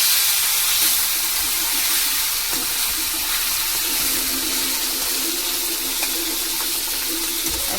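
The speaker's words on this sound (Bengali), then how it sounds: "কড়া গরম হয়ে গেছে, তেল দিয়ে দিয়েছি। ইলিশ মাছটা ভেজে নেব।" Hilsa pieces frying in hot oil in a wok give a steady, loud broadband hiss and sizzle throughout, with faint scattered crackles and no voice.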